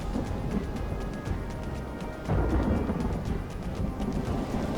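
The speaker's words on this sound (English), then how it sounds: "It's pouring with rain, so it doesn't really help." Heavy rain pours steadily in a Westeros: Total War battle, a constant hiss with a low rolling thunder swell building about halfway through, fairly quiet and without talk.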